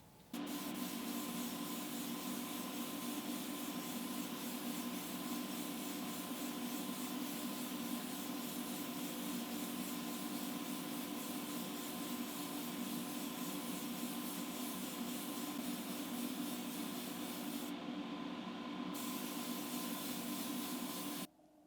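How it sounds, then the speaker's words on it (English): A steady hiss of spray paint onto a 1:64 Hot Wheels 1970 Chevelle model car runs continuously for about twenty seconds, close and even, with a faint electric hum underneath. "we're going to just spray straight over the white."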